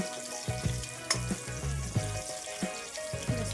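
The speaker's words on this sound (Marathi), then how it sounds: "लालसर होईपर्यंत आपण परतून घेणार आहे" Ingredients sauté in a pan, fried until reddish, producing a continuous sizzle with regular scraping and knocking strokes of a spatula roughly every half second, close and moderately loud.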